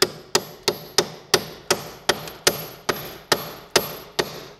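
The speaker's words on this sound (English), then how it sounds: "So I'm gonna tap these bolts into place." Hammer tapping front axle bolts into place during a half-shaft replacement on a car, about a dozen sharp metallic knocks in an even, steady rhythm, close and clear with no talking.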